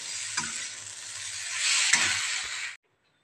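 Food sizzles loudly in a hot pan, with a few scraping strokes of a spatula stirring it, before the sound cuts off abruptly into silence.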